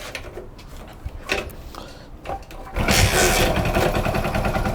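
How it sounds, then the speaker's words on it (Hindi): A motorbike whose battery is not charging is started after quiet handling clicks, its engine catching and settling into a steady, close rumble that holds to the end. "मैं बाइक को फिर से एक बार स्टार्ट कर लेता हूँ।"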